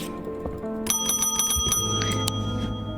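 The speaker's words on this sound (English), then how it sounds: "There's technically a time where you could ding the bell right as soon as your customer fades" Several bright metallic bell dings from a video game, clustered in a quick series over a steady backdrop of game music, loud and close with no talking.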